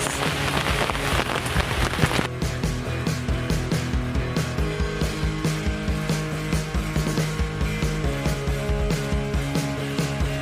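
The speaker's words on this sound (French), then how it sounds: "J'espère que la pluie va se calmer un peu parce que là c'est l'horreur." Heavy rain pours steadily onto surfaces during a fishing outing, a dense loud patter with intermittent sharper drops, continuous throughout.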